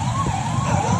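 A continuous police vehicle hooter wails with a slowly rising and falling tone during a flag march through city streets, loud and steady over low traffic rumble.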